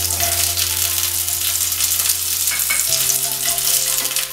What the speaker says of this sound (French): Je vais venir mettre mes oignons grelots, juste pour les colorer